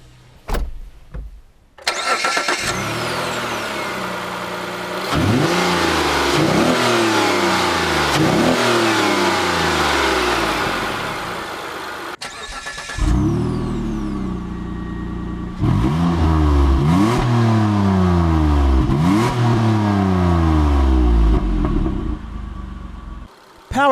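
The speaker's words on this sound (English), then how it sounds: "Powering this Outlander GT is a 3-liter MyVex single overhead cam V6 engine that makes 224 horsepower" A 2016 Mitsubishi Outlander GT with a 3-liter single overhead cam V6 starts up and accelerates hard through several gear changes, pauses briefly, then pulls through the gears again, loud and close with rising and falling engine tones.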